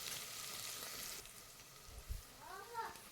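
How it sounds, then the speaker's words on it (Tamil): Onions and curry leaves sauté in a pan with a soft, low sizzle and hiss. A few light stirring knocks are heard, and everything stays quiet. "கொஞ்சம் கருவேப்பிலையை சேர்த்துட்டு நல்லா வந்து வெங்காயம் வந்து வதக்கி விட்டுக்கலாம்"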